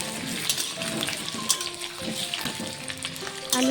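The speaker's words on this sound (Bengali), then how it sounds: "আলুটিকে দিয়ে একটু নেড়ে চেড়ে কিছুক্ষণ ভেজে নেব।" Potatoes frying in hot mustard oil in a wok, a steady close sizzle with scattered clinks and scraping as they are stirred, no voices.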